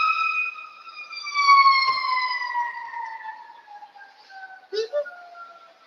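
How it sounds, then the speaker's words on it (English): Several sirens wail together in long descending tones, fading into the distance, with a short sharp noise near the end. "You definitely should be able to hear that,"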